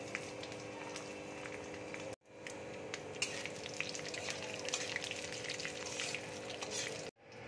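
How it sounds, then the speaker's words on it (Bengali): Mustard seeds, panch phoron and dried red chillies crackle and sizzle in hot oil in a kadai, a steady frying hiss with scattered pops, broken by two short silent gaps. "তেল গরম হয়ে গেছে, এবার আমি সর্ষে ফোড়ন দিচ্ছি, পাঁচফোড়ন দিচ্ছি, শুকনো লঙ্কা ফোড়ন দিচ্ছি,"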